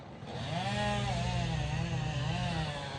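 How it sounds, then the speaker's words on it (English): Chainsaws cut a tree some distance away, their engine whine steady and continuous and rising and falling in pitch as the saw works, moderately loud with no voices. "they're cutting, dealing with that tree, the far back one. You know, so that's why you're gonna hear chainsaws."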